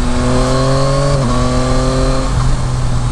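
A 2021 Yamaha Tracer 9 GT motorcycle engine pulls hard under acceleration, its steady harmonic drone dipping briefly twice as the quick shifter snaps through upshifts, loud and close with no talking.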